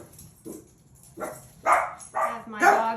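A pet dog at home barks at an imagined visitor in the driveway, giving several short, fairly faint barks that grow slightly louder toward the end.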